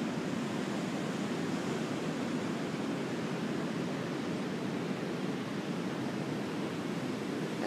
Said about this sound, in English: This is Guanaco Beach in Panama.